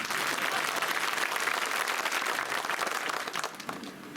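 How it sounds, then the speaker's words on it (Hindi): Crowd at an outdoor election rally in a village applauding, sustained dense clapping at an even level throughout with a slight dip near the end, no speech over it. "तालियां थोड़ी कम बजी।"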